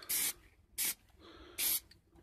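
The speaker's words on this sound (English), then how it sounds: "spray it just like you would normal spray paint" Three short, loud bursts of aerosol hiss come close up as a Plastidip can sprays a fine coat onto a Mini, with brief quiet gaps between them.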